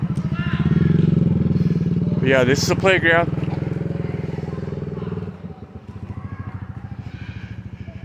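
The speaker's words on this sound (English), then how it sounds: "See, motorbikes everywhere." A motorbike engine rumbles steadily nearby on a Philippine neighborhood street, its drone continuing under a voice as he speaks.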